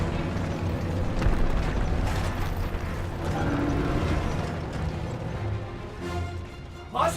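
Panzer tank in Call of Duty WW2 gameplay, a heavy rumbling, clanking track-and-engine drone that stays loud and continuous, with a brief sharp burst near the end.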